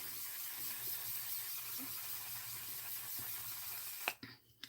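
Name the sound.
setting spray being sprayed on face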